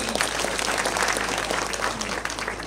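A crowd at a send-off gathering applauds director Fred Wafune, a dense, sustained burst of clapping that holds steady throughout without any talk.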